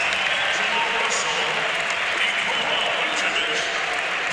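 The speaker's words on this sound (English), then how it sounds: "Dirk Nowitzki hearing it from the crowd as he checks in" A basketball arena crowd roars steadily at an NBA All-Star game as a player checks in, a dense, loud wall of cheering and applause that holds throughout, with a commentator talking over it.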